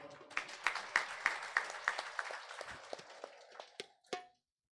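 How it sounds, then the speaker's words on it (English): A small group clapping at a Hindu temple yagna gathering for an elder's birthday, a quick run of separate claps that slows and thins out before stopping abruptly, faint and nearby. "So look, give him our applause from now."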